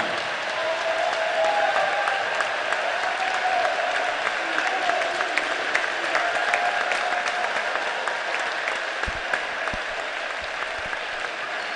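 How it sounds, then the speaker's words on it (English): A gym crowd at a boys' high school basketball game applauds honorees standing on the court, a long, even wash of clapping with faint scattered cheers and no talk. "if you would please give a round of applause for these outstanding people up here"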